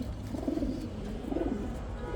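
A Girubaz pigeon on a rooftop gives two soft, low coos close by, each a short rolling burst, with a quiet pause between them.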